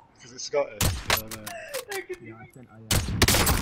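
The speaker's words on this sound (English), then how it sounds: "Sniped him out of the air." Sniper rifle shots in a video game, a few sharp loud cracks with bright tails, mixed with game effects and a voice talking.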